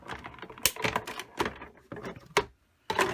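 Paper fed through a Stampin' Up die-cutting machine during a crafting session, giving a close series of irregular clicks and mechanical clacks with a brief pause near the end.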